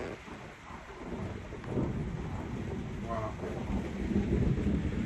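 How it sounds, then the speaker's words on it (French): Thunder rumbles with steady rain falling outside a garage, a broad low roar that swells midway and stays loud to the end, with a brief word spoken. "Ça tonne, il pleut"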